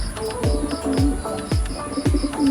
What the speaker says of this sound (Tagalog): meron po tayong 3 ibon dito